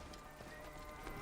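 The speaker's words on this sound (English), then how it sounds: "This must be Mered's horse." Faint hoofbeats and a whinny from a horse in the video game Assassin's Creed Origins, set in ancient Egypt. The sound is quiet and distant under a wash of outdoor ambience, lasting just over a second.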